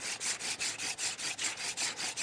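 A wooden hand-drill spindle grinding down into a hearth board for friction fire: steady rhythmic rasping strokes, about five per second, close and even, with no voices.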